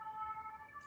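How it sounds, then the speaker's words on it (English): A siren wails faintly in the distance, a thin sustained tone holding steady over a quiet background. "You can hear the sirens in the background"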